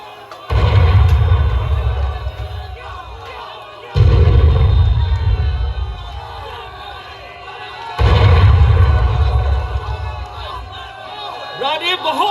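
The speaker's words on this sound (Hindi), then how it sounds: "तोप रानी पर चलाओ।" Staged cannon fire during a theatre play about Queen Durgavati at a Burhar festival: three heavy booming bursts about four seconds apart, each decaying into a crowd-like roar, with battle noise filling the gaps.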